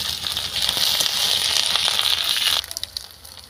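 Ginger garlic paste dropped into a hot pan of frying snails, a loud crackling sizzle that fades to sparse pops near the end.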